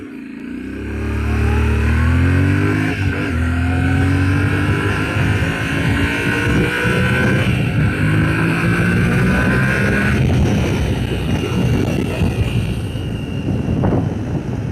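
A Yamaha Ténéré 700 motorcycle pulls away on a small uphill and accelerates hard, its engine note climbing loud and steady through the gears, revving high in second, close by with no talk.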